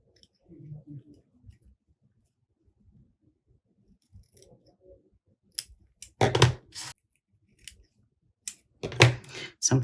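Scissors trim the paper ends of a handmade card in a few quick bursts of sharp snipping clicks, close up, separated by quiet pauses and some faint handling of the paper.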